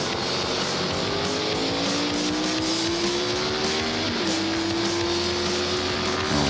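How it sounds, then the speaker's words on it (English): Racing motorcycles at Daytona in 1998 scream past near the east horseshoe, their high-pitched engines rising and shifting continuously, loud and close, with no talking. "Got some other bikes coming out of the pits as we go into the east horseshoe."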